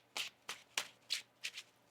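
A tarot deck is shuffled by hand in five quick, crisp riffling bursts, evenly spaced and close, with no talking.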